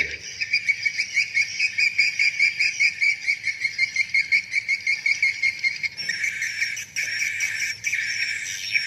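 Swiftlet lure call playback from the Pelangi Jaya Walet (PJW) set: rapid repeated high chirping trills in a steady pulsing rhythm, changing to a denser, brighter twitter partway through.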